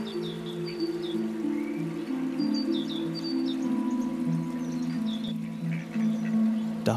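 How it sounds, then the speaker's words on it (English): Ducks quack a few times over a continuous forest backdrop with light rain and other birds calling, the calls moderately near and mixed into steady ambience. "Ducks waddle confidently through the mud."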